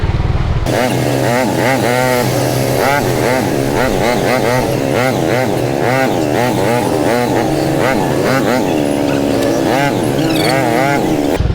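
Motorcycle engines idling and revving nearby in slow, stalled traffic on a flooded road during a typhoon, a continuous buzzing drone with shifting pitch throughout.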